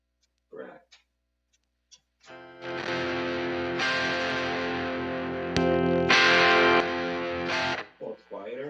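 Electric guitar runs through a JHS Pack Rat distortion pedal, strumming thick, fuzzy sustained chords that ring for several seconds and swell louder midway, with brief talking just before and after.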